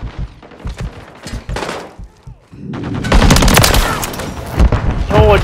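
Enemy gunfire in Modern Warfare 3, scattered shots at first, then a loud dense barrage of rapid automatic fire with thumps mixed in, close and intense.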